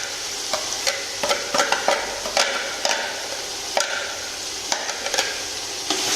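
Rice for chicken pulao fries in hot oil while being stirred constantly in a hostel kitchen; a steady close sizzle is punctuated by sharp, irregular scraping clicks of the spoon against the pot, with no speech.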